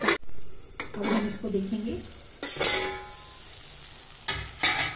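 Baingan bharta, a mashed eggplant dish, sizzles in a pan while a utensil stirs and scrapes in repeated bursts, with someone talking over the cooking.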